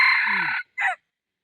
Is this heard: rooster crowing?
yes